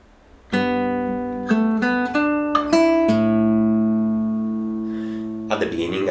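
A measure of a song played fingerstyle on guitar, with plucked bass and treble notes ringing together in a slow sequence of sustained chords, close and clear, and a brief voice near the end.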